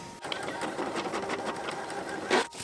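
A photo printer runs through a print job with a continuous whirring, rapidly pulsing mechanical drone that ends in a short louder clunk.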